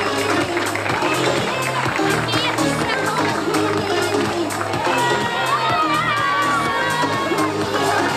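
Festival crowd at an August fair ceremony cheers and shouts loudly and continuously, with children's voices and whoops over a dense, steady roar, while music with a thumping beat plays throughout.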